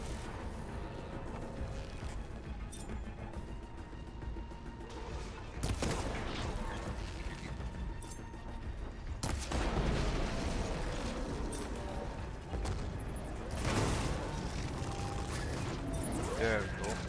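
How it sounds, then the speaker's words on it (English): A hostile machine fires missiles in Horizon Forbidden West, a busy game battle full of repeated launches and sharp bursts, with heavy booming impacts near 6, 9.5 and 14 seconds. "Is it firing fucking missiles at me?"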